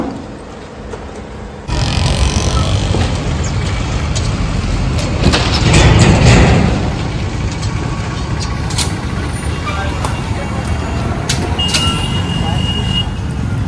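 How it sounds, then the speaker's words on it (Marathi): Road traffic in a jam, with a continuous loud rumble of engines from cars, buses and trucks close by and a brief swell of heavier engine noise midway, while people talk over it. "ट्रॅफिक जाम आहे त्याच्यामुळे टाईम लागतं"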